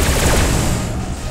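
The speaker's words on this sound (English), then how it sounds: "I think these turrets are quite powerful" Turret gunfire in the space combat game Rebel Galaxy, a dense, loud fusillade of rapid overlapping shots that holds steady and fades slightly toward the end.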